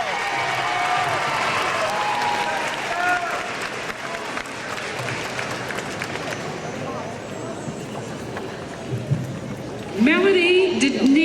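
An audience claps through a 2001 high school graduation ceremony, a broad wash of applause that thins and fades partway, with voices and crowd murmur mixed in and a louder burst near the end.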